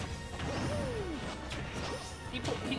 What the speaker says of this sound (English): He throws out side smashes.